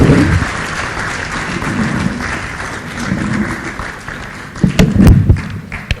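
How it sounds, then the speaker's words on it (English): Lecture audience clapping at an annual lecture event, a loose, uneven patter with scattered sharper claps and a few louder thuds near the end, fairly close and moderately loud. "Another round of applause for him"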